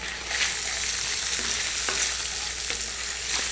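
Tofu chunks pan fry with ginger in a loud, steady sizzle close by, with occasional spoon scrapes and taps as they are stirred; no one talks.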